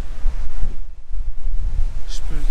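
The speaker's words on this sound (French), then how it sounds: "Il y a tellement de vent que je peux pas faire de mes pauses" Strong seaside wind buffets the microphone in loud, low rumbling gusts at sunrise on the Magdalen Islands, with a brief distant higher sound near the end.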